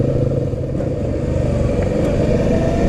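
A VOGE 525 DSX motorcycle engine drones steadily throughout, a loud, rough low-pitched rumble as the bike rides along with no pauses.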